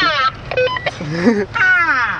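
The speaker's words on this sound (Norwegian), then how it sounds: "Det var telefonen." A telephone giving off dialing tones, short tonal beeps mixed with warbling electronic sounds, close and fairly loud.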